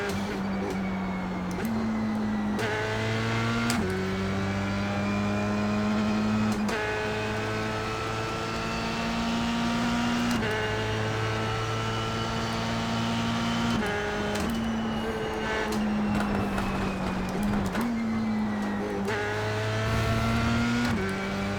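Onboard a Formula 3 race car pushing hard on a lap, the engine screams loudly and continuously, climbing in pitch through each gear and dropping sharply at several quick upshifts in a repeating rhythm.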